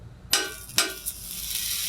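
Butter hits a hot flat-top griddle with two sharp crackling bursts, then settles into a steady, bright sizzle close by.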